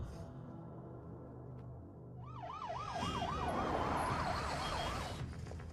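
An ambulance siren wails in rising and falling cycles, starting a couple of seconds in and growing louder over heavy road traffic rumble, then fading near the end.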